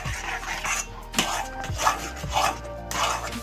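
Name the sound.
stirring semolina and coconut sweet mixture in a pan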